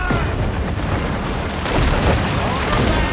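Timed explosives go off in the video game Maneater, dense booming blasts that continue throughout and sit loud and close.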